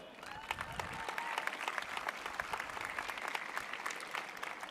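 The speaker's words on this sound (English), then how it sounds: "we all deserve a round of applause for standing triumphant here today" A crowd at a high school graduation ceremony breaks into applause, a steady patter of many hands at moderate distance, sustained throughout.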